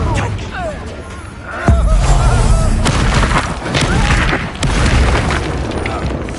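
Confringo blasting spell from Hogwarts Legacy erupts in a loud, deep boom, followed by a sustained rumbling crash and a second thud, with game voices over the roar.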